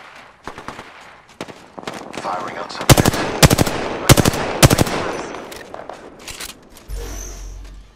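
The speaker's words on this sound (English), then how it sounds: "Getting shot at." Gunfire in the video game Apex Legends, with bursts of rapid automatic shots in close, loud clusters, some single cracks in between, and a brief low hum near the end.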